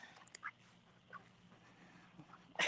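A duck quacks a few times in short bursts while walking through a backyard garden, moderately close, with quiet outdoor ambience between calls and a louder burst at the end.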